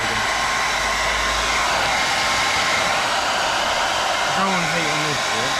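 A heat gun blows hot air onto a car rear light on a Honda Civic EP3, a loud, steady, close whoosh that runs without a break, with a voice briefly heard beneath it near the end.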